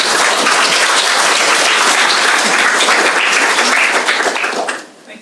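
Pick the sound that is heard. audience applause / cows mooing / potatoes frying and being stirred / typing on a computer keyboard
audience applause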